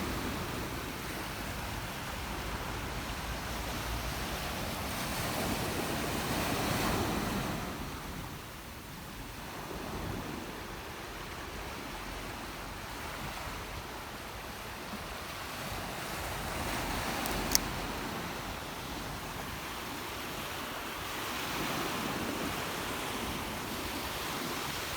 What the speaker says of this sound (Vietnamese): Bãi biển Mỹ Khê,